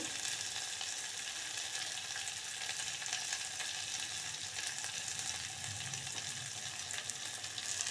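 Tomatoes frying in a pan for bhagar khichdi, a dense, even sizzle that hisses continuously at close range with light stirring beneath.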